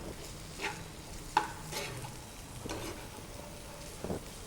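Capsicum pieces cooking in a pan: a quiet background sizzle broken by a few scattered scrapes and clicks of stirring, heard close but faint.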